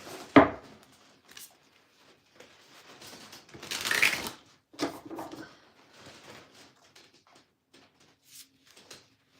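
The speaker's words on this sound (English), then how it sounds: "Let's shuffle these cards." Quick riffling card shuffles, a sharp flutter near the start and a longer burst in the middle, with scattered soft handling clicks and taps between.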